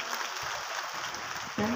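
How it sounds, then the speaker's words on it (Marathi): An audience at a women's honour event applauds for Amol Bhau, a steady, fairly faint wash of clapping that lasts throughout, with a brief tonal sound cutting in at the very end. "आपल्या अमोल भाऊंसाठी देखील खूप टाळ्या झाल्या पाहिजेत."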